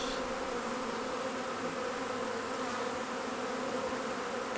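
A swarm of honeybees buzzes in a dense, continuous drone that stays close and loud throughout, with no voices over it.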